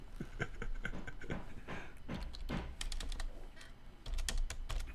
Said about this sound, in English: I'm typing, I'm trying to get used to this.